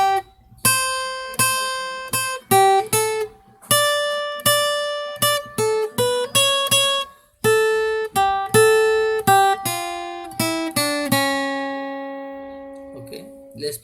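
Single lead guitar picks out the Ganesh Aarti melody 'Ek Dantay Vakra-tundaya' in clean, ringing plucked notes, a steady run of close, loud phrases with the final note left to decay.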